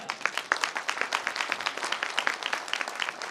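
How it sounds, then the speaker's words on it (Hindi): A crowd at a motivational business gathering applauds a respected guru, a smaller group's clapping with distinct individual claps forming a quick, uneven rhythm, fairly close and alone without talk. "गुरुजी के लिए अब तक की सबसे जोरदार तालियां"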